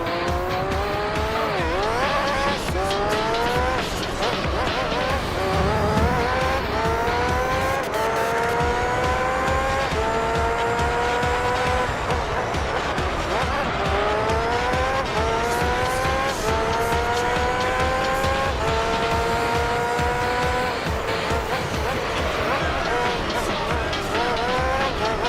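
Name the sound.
race car accelerating and tire squeal in the video game Gran Turismo 3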